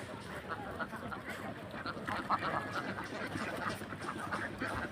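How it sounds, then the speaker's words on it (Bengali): Many black-breed ducks kept on a riverbank, quacking in a faint, continuous chorus from some distance with outdoor background noise. "দেখুন কত সুন্দর সুন্দর হাঁস এখানে লালন পালন করা হয়।"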